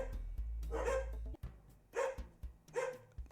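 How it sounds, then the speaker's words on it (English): Several dogs barking in short, loud bursts, three clear barks spaced about a second apart over a low background hum, with no talk during the clip. "Sorry about my dogs."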